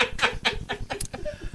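Chicken clucking played as a sound effect on a radio talk show: a quick run of sharp, rhythmic clucks and squawks, fairly close and clear, with no talking over them.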